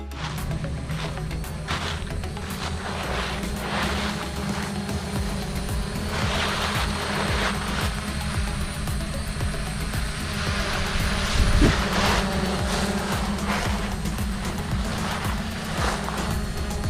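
A KS66 camera drone in flight on a breezy day, a steady whirring drone blended with wind buffeting and rumble, fairly loud throughout with no talking.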